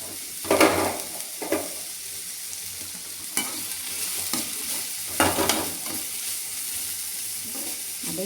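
Food sizzles softly in a pan, with a few scraping stirs of a spatula and light clinks against the metal.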